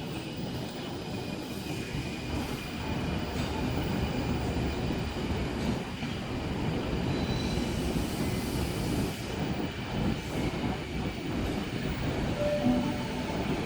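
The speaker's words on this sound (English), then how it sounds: "Baroness set arriving on platform number 20." A Sydney S-set passenger train rumbles into a platform, wheels rolling and faintly squealing, a steady close mechanical roar with occasional clicks.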